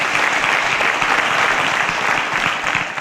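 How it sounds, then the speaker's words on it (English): Studio audience applauding contestants on a quiz show, a loud, steady wash of clapping that holds at full strength for a few seconds without pause or voices. "A round of applause as all our contestants got it correct"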